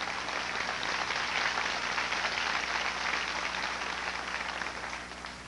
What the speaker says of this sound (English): Go ahead and clap for Jesus.